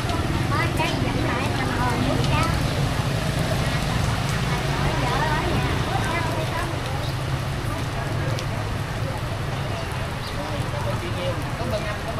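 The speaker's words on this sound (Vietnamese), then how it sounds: "Em thấy mưa hình như hơi lớn hơn chút xíu rồi." Steady, dense rain falls at a flooded market in Cao Lãnh, Đồng Tháp, a constant close wash of patter that never lets up, with people talking beneath it.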